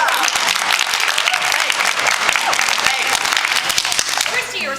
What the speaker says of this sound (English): Can you join me in a round of applause?